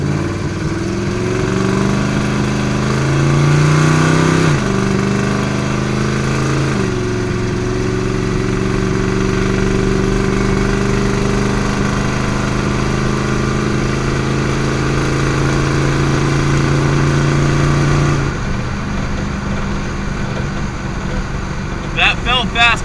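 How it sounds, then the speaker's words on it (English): An American muscle car engine pulling hard under acceleration, a loud sustained roar with rising and shifting pitch as it climbs through the gears, then easing off near the end. "Loud and proud American muscle"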